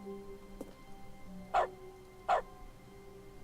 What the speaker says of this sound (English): I'm barking instead of typing.